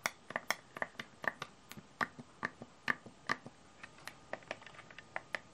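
Crisp clicks from the buttons and dial of a Logitech MX Creative Console, a long irregular run of sharp close taps and snaps, some doubled, spaced through a quiet room with no talk.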